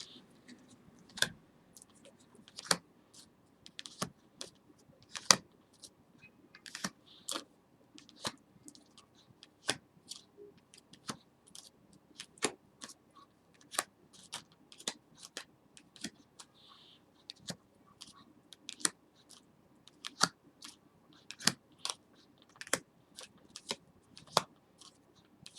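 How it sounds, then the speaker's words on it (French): Tarot cards being cut and laid out on a table: sharp, close, dry snaps and clicks at irregular intervals over a quiet background, with no talking. "Je coupe et je mets chaque fois 3 cartes."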